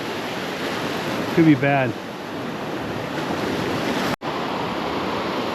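Ocean surf rolls steadily onto the Padre Island beach along the Texas Gulf coast after a hurricane, a continuous wash of breaking waves close by, with a brief spoken phrase early on.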